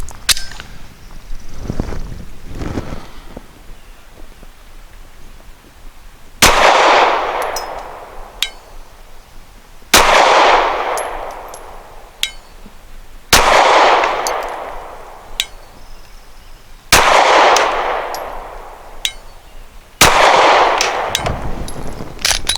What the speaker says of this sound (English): Second group will be with the Norma Hexagon 124 grain.